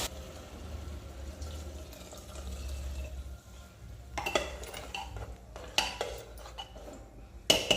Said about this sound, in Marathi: आता ह्याच्यामध्ये आपल्याला जसं पाणी हवं असेल तसं आपण टाकून घेऊया